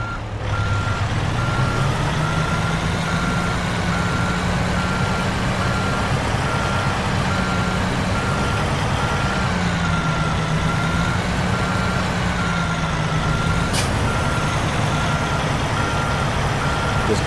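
An International truck reverses in American Truck Simulator, its backup alarm beeping steadily and evenly over a low idling engine hum throughout.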